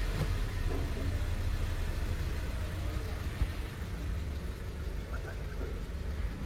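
Honda BR-V with a CNG kit, now switched from CNG to petrol, idles with a steady, low engine rumble throughout, close by and fairly loud with no speech.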